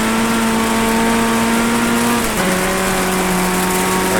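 A race car engine in the iRacing sim holds a steady, loud drone during a wet monsoon-rain race, its pitch stepping down once partway through as the gear changes.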